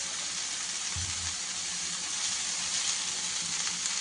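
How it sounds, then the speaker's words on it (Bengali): Vegetables hiss and sizzle steadily in hot oil in a pan as they are tipped in to fry with ginger, garlic and onion, a constant bright crackle with a brief low thump near the start. "হ্যাঁ, একটু হালকা করে ভাজবো। এইবারে আমি সব সবজিগুলো দিয়ে দেবো।"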